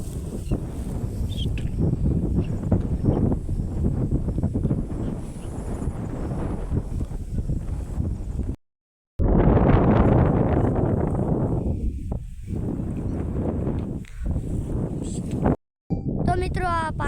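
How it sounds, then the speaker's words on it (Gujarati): Strong wind buffets the microphone outdoors beside a water-filled field pit, producing loud, low rumbling gusts that almost cut out twice before surging back. "અહીંયા પવનનો આટલો અવાજ, પવન આટલો છે કે મારો અવાજ તમને નહીં આવતો હોય"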